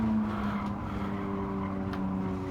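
Race car in Gran Turismo 7 slowing for a sharp crested turn, a sustained engine drone with tonal whine and faint tire noise, steady and close, with no talk.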